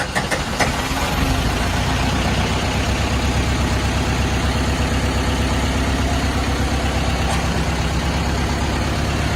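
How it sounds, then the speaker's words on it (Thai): A Komatsu PC60 excavator's diesel engine running at a steady idle, a loud close rumbling drone with even pulsing, a couple of short clanks at the start and no speech. "เป็นรถมัดโค โคมัตสุ PC 60นะครับเราจะลองสตาร์ทดู"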